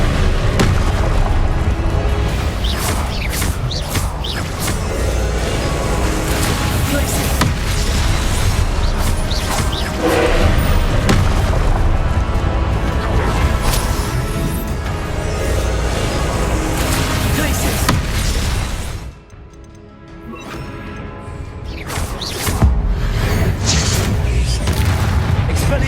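Repeated Confringo blasting-curse explosions in Hogwarts Legacy, loud booming blasts and crashes rolling almost continuously in a dense, forceful barrage with a short lull near the end before the impacts resume.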